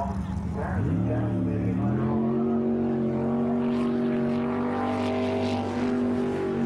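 Superboat jet sprint boat engine at a 2009 World Jetsprints race, a loud sustained high-revving roar that climbs in pitch and holds steady throughout, with a commentator talking over it.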